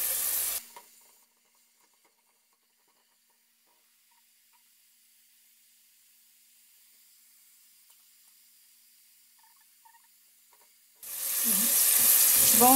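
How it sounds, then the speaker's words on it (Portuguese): Onion sautés in olive oil in a pan. A loud burst of sizzling opens and another closes the stretch, with long near-silence between them. "Aí nós vamos refogar a cebola"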